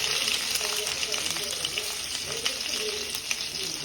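Garlic, mustard seeds, cumin and spices sizzle and crackle steadily in hot oil for a tempering, a loud continuous frying hiss with scattered pops, close by and uninterrupted.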